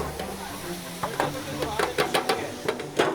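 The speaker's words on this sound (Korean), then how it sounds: "짜장면이 이게 마지막 볶는 거야" Jajangmyeon sauce is stir-fried in a wok in the kitchen of a century-old Shandong-style Chinese restaurant, giving a constant sizzle broken by sharp, repeated clanks of a spatula against metal.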